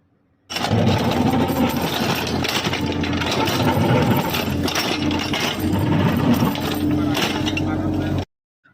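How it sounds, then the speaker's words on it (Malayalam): A Hitachi excavator starts up and runs while digging a house foundation pit into hard rock, its engine droning loud and steady for about eight seconds before cutting off abruptly, with faint metallic clinks mixed in. "ഇറ്റാച്ചി വന്നു, ബാക്ക് ഭാഗത്തുനിന്ന് സ്റ്റാർട്ട് ചെയ്തിട്ടുണ്ട്."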